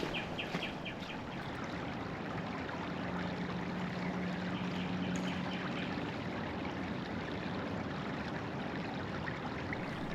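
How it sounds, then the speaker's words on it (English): A stream flows past along a park loop trail during the spring thaw, a steady, close rushing and trickling of water throughout, with faint bird calls above it. "watch the water flow by, especially in late winter or during the spring thaw"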